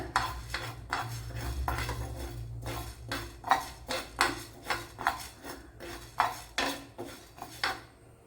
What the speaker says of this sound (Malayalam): ഇതിനെ ചെറിയ രീതിയിലൊന്ന് വറുത്തെടുക്കാം.